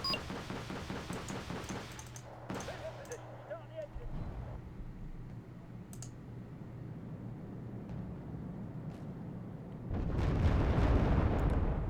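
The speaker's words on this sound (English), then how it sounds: "Where's that artillery coming from?" Artillery fire in Wargame: Red Dragon, with rumbling booms and distant impact blasts under continuous battlefield noise, building to a heavier, louder roar of explosions near the end; a voice talks over part of it.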